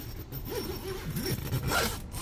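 A zipper on a fabric partition closing off the bunk of a camper van is pulled along in one continuous, close, rasping run, with no talk.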